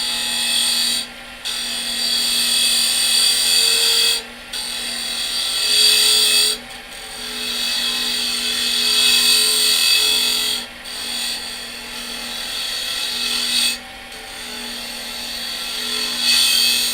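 A woodturning lathe spins at about 2500 RPM under a steady hum while a tool cuts in loud, hissing bursts, broken by brief pauses every few seconds.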